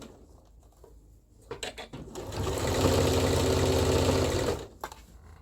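A sewing machine stitches fabric while a dress bodice is assembled: a few short starts, then a sustained close, steady run of rapid needle chatter for about three seconds before stopping.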